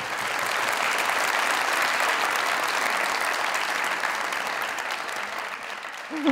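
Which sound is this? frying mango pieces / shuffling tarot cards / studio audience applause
studio audience applause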